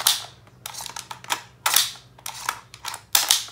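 A magazine popping out of a Colt 1911 STD gel ball blaster with an aluminum barrel, heard as a series of sharp clicks and snaps, about five distinct bursts spaced through the clip, close and fairly crisp with no talking.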